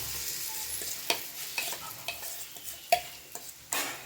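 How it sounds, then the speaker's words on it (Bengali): An oats sandwich made without bread fries on a hot tawa, giving a steady close sizzle broken by scattered light scrapes and taps of a spatula, with no talk. "দেখো, এইবার দেখো আমি এটা একদম তাওয়ায় পুরোটা দিয়ে দেবো।"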